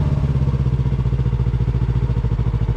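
Motorcycle engine with the clutch pulled in while it downshifts into first gear and the clutch is let out, giving a steady, close, pulsing mid-pitched thrum with no talk.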